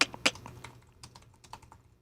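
Brisk typing on a computer keyboard, close and clear, with a few louder key strikes at the start followed by lighter, uneven clacks in a quiet room.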